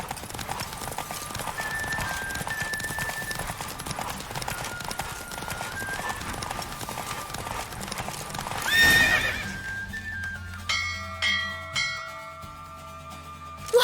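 A horse in The Witcher 3 video game, hooves clip-clopping steadily under game music, then a loud neigh and a few more short whinnies near the end.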